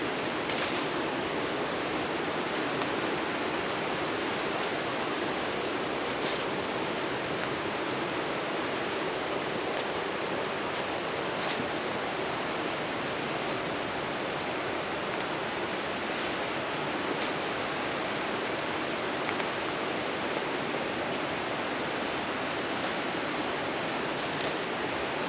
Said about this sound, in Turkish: Şu an gelen tek ses su sesi. Derenin sesi.